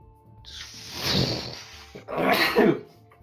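A single human sneeze bursts out close and loud, preceded by a sharp inhaled buildup and followed by a second forceful explosive expulsion, with no talking.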